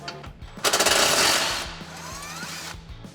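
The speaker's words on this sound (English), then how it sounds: "So we're going to take a 13mm socket on an extension." A 13mm socket on an extension driven by a power tool to remove an exhaust bolt on a 2018 Jeep Wrangler JL, a loud rapid hammering burst for about a second, then a lighter rattling whir.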